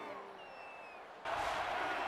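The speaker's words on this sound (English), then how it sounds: "Crowd getting behind the Roadrunners on 3rd down with a run." A stadium crowd in a college football video game swells into a loud, sustained roar and cheer on a third-down run, rising abruptly after a quieter stretch of game ambience.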